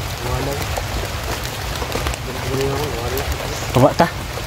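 Rain patters steadily on surfaces outdoors, a constant hiss running beneath people talking, with a few sharper knocks near the end.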